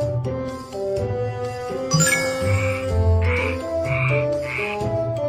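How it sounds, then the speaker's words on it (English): Frog croaks repeat in a steady series over a busy, tonal musical background in a children's animal programme about a tadpole growing into a frog. "Frog can sing like this. Croak, croak, croak, croak."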